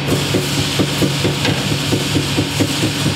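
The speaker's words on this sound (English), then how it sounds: "Let's see now what the hydraulic press has to say about this." A 200-ton hydraulic press crushing a 20-ton bottle jack, with a dense, steady mechanical roar and a run of repeated knocking, cracking impacts throughout, loud and close.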